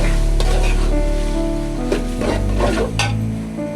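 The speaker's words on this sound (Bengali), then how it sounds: "ডালগুলো দিয়ে এখন কষাইতেছি।" Chana dal frying with chicken in a pan, a loud steady sizzle close by with occasional scraping and clinks as the mixture is stirred.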